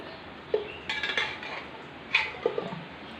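A spoon scooping cooked chickpeas out of a pot for kadala thoran, a few close metallic scrapes and clinks against the pot at irregular intervals, quiet otherwise.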